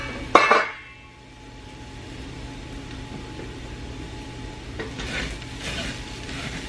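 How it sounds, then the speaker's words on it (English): A spoon clanks against a cooking pot in a sharp burst, then the utensil scrapes and rubs around the bottom in a quieter, continuous stir, close by with no talking. "I'm gonna go on and stir this again, making sure just that it's not gonna stick"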